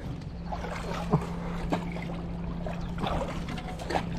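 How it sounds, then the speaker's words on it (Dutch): Quiet splashes of paddles dipping into water at irregular intervals as a small boat is paddled, with a low steady hum underneath and faint murmuring voices nearby. "Je moet harder paddelen, man."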